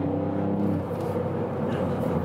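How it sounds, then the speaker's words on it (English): A 200-horsepower Ford Fiesta ST accelerates hard, its engine droning steadily and rising in pitch, heard from inside the car. "Wow, what acceleration this 200 horsepower that is applied on"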